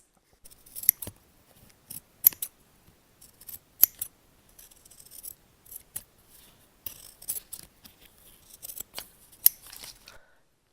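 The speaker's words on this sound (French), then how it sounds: "je vais redécouper avec mon ciseau" Scissors cutting out a leather shape, a series of crisp snips and short crunching cuts in irregular bursts, close and isolated against silence.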